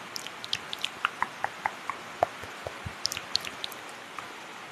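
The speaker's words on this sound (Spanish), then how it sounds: "disfrutaremos un poco del sonido de la lluvia" Natural rainfall recorded in an ASMR setting, heard as scattered, irregular drips and soft taps landing close by over a quiet, faint background hiss, with no voices.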